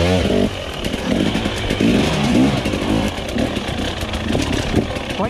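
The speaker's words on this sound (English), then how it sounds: "Bike can't idle." Engine of a TE300i two-stroke dirt bike on single-track trail, running loud and continuous with rough, uneven sputtering and clattering as it struggles to hold an idle.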